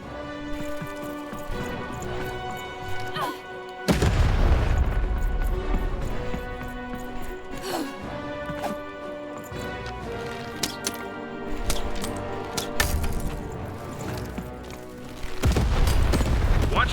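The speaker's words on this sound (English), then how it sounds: "Shoot the button to fire the cannon." A cannon fires in a video game, giving two heavy booming blasts some seconds apart over light game music with a clip-clop rhythm.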